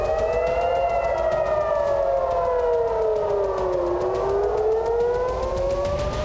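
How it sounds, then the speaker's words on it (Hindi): A wailing civil defense air raid siren in Tel Aviv during wartime rises and falls slowly, loud and sustained, its layered tones sweeping down then back up with no talking. "तेल अवीव में पूरी रात सायरन की आवाज गूंजती रही"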